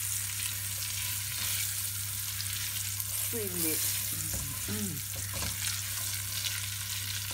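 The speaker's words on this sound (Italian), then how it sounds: "la togliamo dalla pentola, lasciamo l'olio e andiamo a buttare giù il nostro pomodoro" Tomato hits hot oil in a pot for homemade amatriciana sauce, giving a steady loud sizzle and fry throughout, with a brief spoken word and some stirring sounds partway through.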